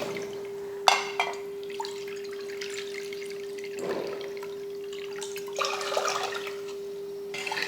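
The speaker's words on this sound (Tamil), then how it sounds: "இதில் 2 கப்பு தண்ணி சேர்த்துடலாம்." Water poured over sugar to make syrup for gulab jamun, with splashing and trickling bursts, some pauses between pours, and a steady hum in the background.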